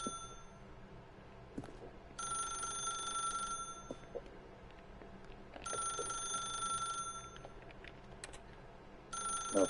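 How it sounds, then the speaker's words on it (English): A telephone rings in the video game The Stanley Parable, sounding in three even bursts separated by quiet gaps, fairly clear over a faint background hum. "then pick up the phone."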